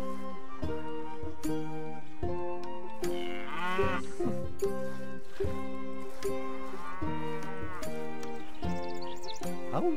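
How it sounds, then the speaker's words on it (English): Cattle in the video game Stronghold HD give repeated loud, drawn-out moos that overlap one another in a steady chorus. Some calls rise and fall in pitch against a constant background. "Old Bessie is acting a little strange, my lord. So are most of the other cows"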